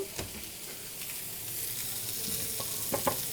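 Beef tandoori sizzles and fries in a pan in a home kitchen, a steady crackling hiss broken by a few scraping stirs near the end.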